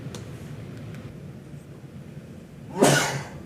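A single sharp sneeze near the end of a quiet stretch during a tabletop board game session, close and abrupt.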